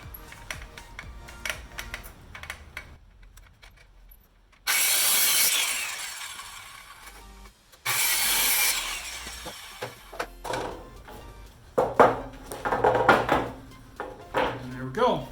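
A circular saw freehand-cuts a 1.5-inch wooden piece in two loud bursts of a few seconds each, set among quieter handling noises and clatter.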